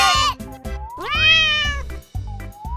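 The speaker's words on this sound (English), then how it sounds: "Kids, do you know which animal goes meow?" A cat meows several times close by, drawn-out rising and falling cries separated by short gaps, with no talking.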